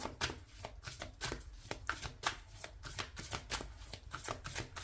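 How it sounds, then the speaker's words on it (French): A deck of oracle cards being shuffled by hand nearby: a steady run of quick, crisp riffling and slapping card sounds in irregular bursts, fairly quiet, with no talking. "on va voir avec cet oracle des cartes complémentaires"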